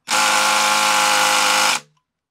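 A loud, steady high-pitched whir of a 10.8V Makita cordless impact driver driving a 30 cm long thin screw, running continuously for under two seconds, then stopping abruptly.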